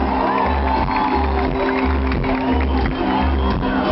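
Carnival street crowd cheering and shouting over a pounding rhythmic bass beat, a dense continuous roar of many voices at a loud, lively outdoor celebration.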